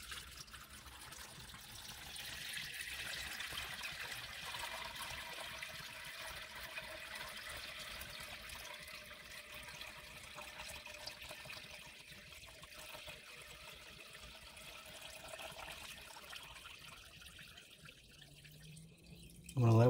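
Faint, steady trickle and drip of raw milk whey draining through a suspended strainer, a quiet continuous wet patter at close range that ends with a sudden bump.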